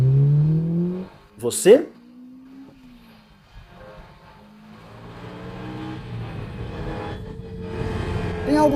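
A Ferrari 308 Vetroresina engine rises and falls through gear changes, with revs climbing in pitch, brief dips between shifts and a loud burst early on, as someone speaks briefly over it.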